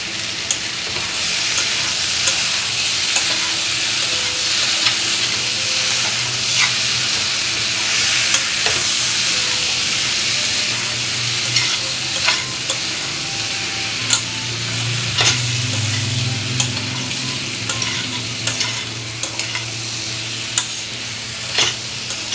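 Spice paste with salt added being stir-fried in a pan for a prawn and taro curry, a continuous close sizzle and hiss with repeated spatula scrapes and stirring throughout.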